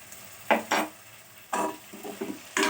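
Spoon scrapes and stirs through ginger paste and drumsticks in a pan, several distinct swishing strokes in an uneven rhythm with a faint sizzle beneath, close and alone.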